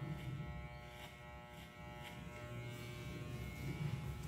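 An electric hair clipper buzzes steadily and close while it is worked diagonally through hair during a discreet modern mohawk haircut, holding a constant hum for the whole stretch without talk.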